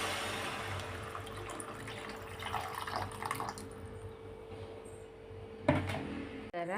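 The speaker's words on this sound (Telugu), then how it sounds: "చింతపులుసు పోసుకోవాలి." Tamarind juice is poured into bottle gourd curry seasoned with chilli powder, a steady close-up splash of liquid that ends with a brief clatter, with no talking.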